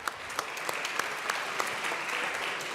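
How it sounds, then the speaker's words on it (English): A crowd claps steadily in a sustained round of applause, sharp claps standing out in the Colorado House of Representatives chamber at the state Capitol, with no voices over it. "let's give them a round of applause, everyone"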